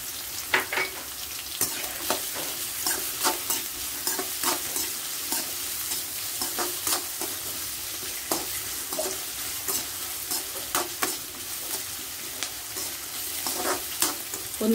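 Chopped onion and ginger fry and sizzle in a pan for a beef dish while a spatula stirs and scrapes steadily, with frequent sharp clinks and scrapes over a constant hiss, close up and with no talking.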